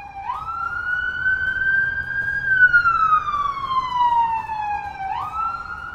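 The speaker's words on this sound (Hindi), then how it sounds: "यहाँ पर देखिए एक और फायर ब्रिगेड की गाड़ी यहाँ पर जा रही है।" A fire brigade vehicle races past on a Tel Aviv street with its siren wailing. The loud, sustained tone rises, slides downward, then jumps back up, steady against low traffic rumble.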